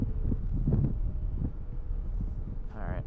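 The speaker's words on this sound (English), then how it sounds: "big gust of wind" A big gust of wind buffets the microphone outdoors at Raleigh-Durham International Airport, a low rumbling roar that holds steady, with a faint thin whine near the end.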